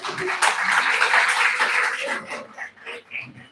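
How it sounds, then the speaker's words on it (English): An audience at an invited academic talk applauds a guest speaker with a full burst of clapping that thins out and fades toward the end. "Give you a big round of applause"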